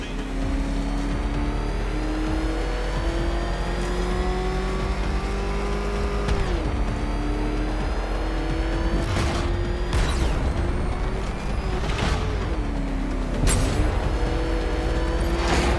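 A car engine drives in the Batman Arkham Knight video game, a loud steady drone that rises in pitch, dips with gear shifts and surges again, with occasional whooshes and impacts over a constant low rumble.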